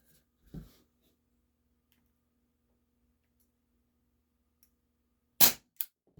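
Cybergun Baby Eagle airsoft pistol firing two sharp shots close by, followed by a fainter third, in an otherwise quiet setting.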